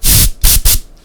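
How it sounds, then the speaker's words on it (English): An air duster spray can firing three short, loud, close hissing bursts in quick succession, the first longest and the last two briefer. "I have a tin of air duster spray"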